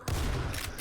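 Dense video-game gunfire roars continuously as a magazine is emptied, a loud sustained burst of rapid shots filling the short moment.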